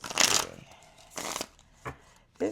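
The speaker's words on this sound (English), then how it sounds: "They started falling out as soon as I started shuffling." Tarot cards are shuffled in several short, crisp riffling bursts at close range, separated by brief pauses.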